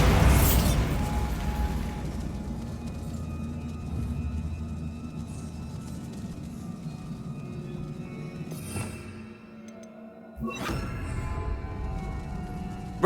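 A Bombarda blasting spell in Hogwarts Legacy: a sharp burst at the start, a rumbling debris-filled stretch, then a second crack and renewed rubble noise near the end.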